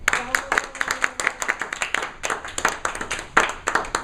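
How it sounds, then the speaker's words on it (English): Audience at a Toastmasters club meeting gives a humorous speaker a hearty round of applause, a steady run of close, crisp hand claps lasting throughout. "Please welcome David with a hearty round of applause for a speech entitled ROTFL."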